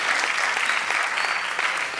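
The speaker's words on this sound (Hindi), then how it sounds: "मैं उस फनकार के लिए आपके आशीर्वाद की तालियां चाहूंगा हमारे पंकज साहब के लिए।" Dense, steady clapping from a concert audience greets a qawwali singer at a Sufi music event, a loud continuous wash of applause with no pauses.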